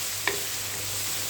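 Garam masala and whole spices being stir-fried in a pan, a steady soft sizzle with one brief scrape of a spoon near the start, close and continuous without talk.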